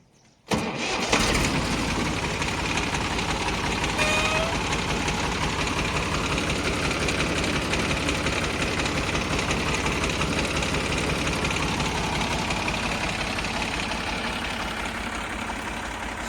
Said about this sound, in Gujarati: સેલ્ફ સ્ટાર્ટ એન્જિન છે।